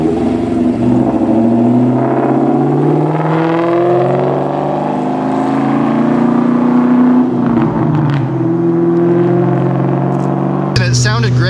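A 2003-2004 Mustang Cobra with a Borla exhaust revs loudly and steadily, the engine note rising and falling through several sweeps before a sharp burst near the end.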